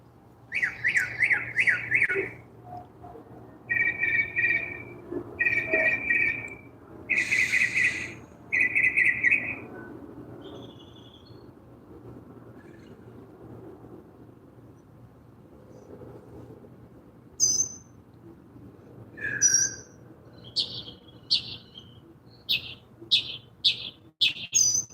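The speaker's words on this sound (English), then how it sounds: "Oh, you heard them birds?" Birds chirp and squawk outdoors near a pond in repeated short bursts of bright calls, then a run of quick high tweets near the end over a faint low hum, close and clear with no talking.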